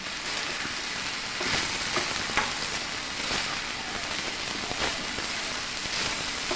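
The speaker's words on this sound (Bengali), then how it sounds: "2-3 মিনিটের জন্য একটু নাড়াচাড়া করে নিচ্ছি জাস্ট" Brinjal pieces fry in a pan as they are stirred, giving a steady, rain-like sizzle with occasional soft scrapes and clicks throughout.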